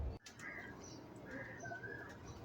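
Pigeons of a prized home-bred strain coo softly at a moderate distance, a few low rolling calls over a steady background hum, with a sharp knock near the start.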